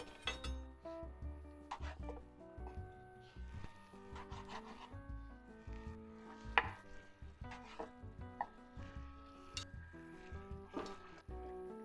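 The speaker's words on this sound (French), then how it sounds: "Je vais couper la viande," Pieces of meat being cut on a board in a home kitchen, giving repeated close knife chops and soft clinks of utensils against dishes, with no talking.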